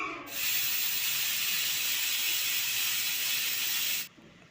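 A pressure cooker on a stove, cooking dal with ridge gourd and tomato, lets out one loud, steady hiss of steam that starts abruptly, holds for about four seconds and cuts off sharply. No one speaks.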